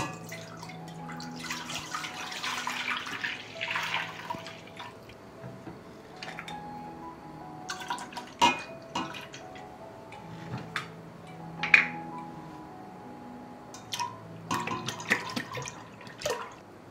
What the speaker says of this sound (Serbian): Mleko ću sipati u jednu dublju šerpu.